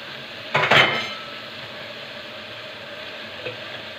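Tomatoes drop into a pan of frying koshari sauce seasoned with coriander, salt, sugar, cumin, onion and black pepper, giving a sharp sizzling burst that quickly fades to a quiet, steady fry, with a faint clink near the end.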